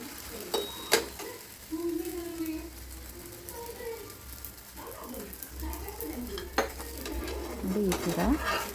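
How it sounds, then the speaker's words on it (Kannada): Oil sizzling in a pan as obbattu, a sweet stuffed flatbread, fries and is pressed with a spoon, with clinks of utensils and scraping throughout, and a person speaking over the cooking. "ಫ್ರೈ ಮಾಡಲಿಕ್ಕೆ ಪ್ಯಾನಲ್ಲಿ ಹಾಕಿ 2 ಸೈಡ್ ಬೇಯಿಸ್ಕೋಬೇಕು."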